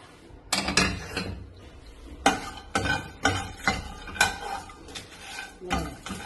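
Turmeric and whole spices roasting in a dry pan for a king fish curry with peanut, heard as a run of scraping and clattering stirring strokes against the metal, fairly close and loud, with no voices.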